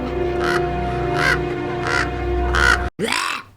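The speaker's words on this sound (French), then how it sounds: "Oh, des corbeaux" Crows caw four times at a steady pace over a low droning score in the horror film Jeepers Creepers (2001), then the sound cuts briefly before a new tone begins.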